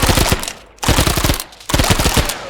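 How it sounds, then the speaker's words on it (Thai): Rapid automatic gunfire from a weapon in the Mini World Block Art game, three loud, dense bursts of repeated shots separated by brief pauses, close and dominant with no talk over it. "มาลองปืน ลองปืน"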